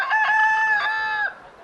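A rooster gives a single clear, loud crow close by, a long sustained cock-a-doodle-doo that trails off sharply at the end, alone on a farm setting.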